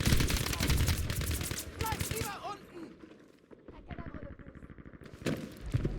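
MAB 38 submachine gun fire in a multiplayer shooter match, rapid close bursts at the start and again near the end, under an excited commentator's voice.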